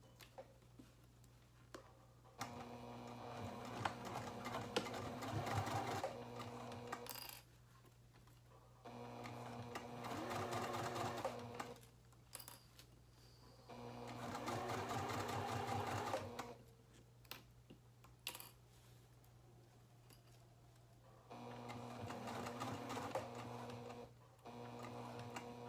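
A sewing machine bastes a zipper onto a coin purse in four bursts of rapid, steady stitching, each several seconds long and separated by short pauses, close and fairly quiet over a constant low hum.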